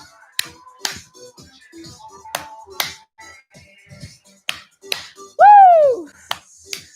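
Sharp hand claps during squat exercises in a home workout, several separate slaps spaced irregularly, fairly close, with quiet instructional voice and a brief whoop in the background.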